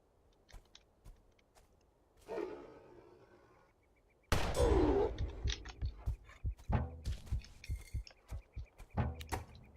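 Pistol shots in the horror game Betrayer, a series of sharp, close reports in an uneven rhythm against a quiet background, with a louder crash partway through.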